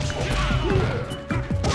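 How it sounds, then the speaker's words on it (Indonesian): Frozen enemy's body shattering in Mortal Kombat Shaolin Monks, a short run of crunching smash and thwack impacts over continuous game music and effects, with a second burst of hits near the end. "Pecah badannya."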